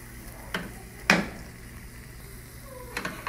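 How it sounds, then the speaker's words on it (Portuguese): Spoon stirring sugar as it melts in a pan for ginger syrup, giving a few soft scrapes and clinks against the pan over a quiet, low background. "vão mexendo assim para derreter por igual."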